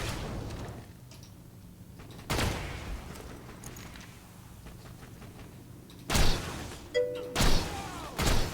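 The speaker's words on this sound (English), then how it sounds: "He just threw a grenade at me, I think." Thuds and blasts from the game Borderlands 2 as a grenade is thrown: one heavy impact early, then a quick cluster of loud bursts near the end over a low steady game ambience.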